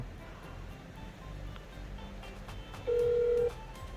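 An iPhone 11 with a replaced screen places a test call, giving a steady electronic tone that sounds for about half a second near the end over low background hiss.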